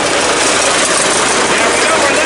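A 2001 Murray garden tractor's 20 hp Briggs & Stratton opposed-twin engine runs close and loud, a dense steady roar with no pauses or talk over it.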